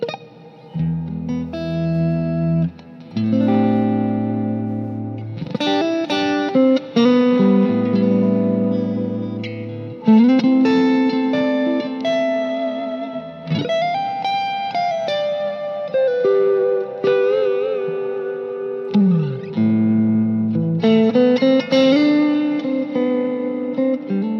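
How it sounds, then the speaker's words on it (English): An electric guitar plays through an amp with reverb, ringing chords and single-note phrases that trail into washy echoes, with sustained tones and brief pauses between phrases, loud and close with no talking. "There is some reverb here"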